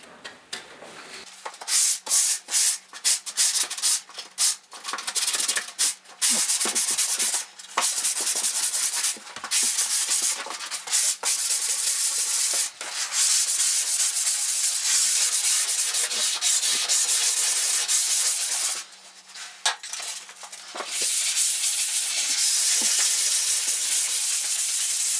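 Drywall is sanded by hand in a basement bedroom renovation, a loud, close, continuous scratchy rubbing with brief pauses between strokes.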